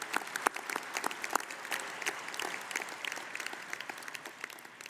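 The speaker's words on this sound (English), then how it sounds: "Please give a round of applause to all of our 2024 Graduates of Excellence Award recipients." Audience applause for graduates and award recipients at a 2024 college commencement ceremony, a sustained round of clapping from a large crowd in a hall that carries on evenly throughout.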